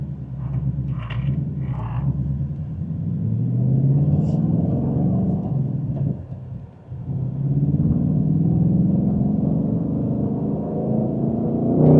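A 2025 Ford Mustang Dark Horse cruising in traffic at light throttle, its low, steady engine rumble running continuously throughout with a brief dip near the middle; no talk.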